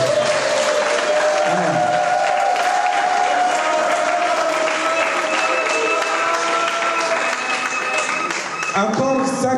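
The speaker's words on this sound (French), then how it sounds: "acclamez un peu pour la gloire du Seigneur" Sustained applause from a church congregation during a French-language sermon, dense and steady for the whole stretch, with a voice calling out over it and keyboard-like tones ringing underneath.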